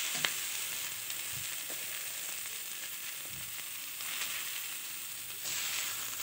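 Bell pepper bharta sizzling in a pan as it is stirred, a faint steady frying hiss with a few soft scraping knocks.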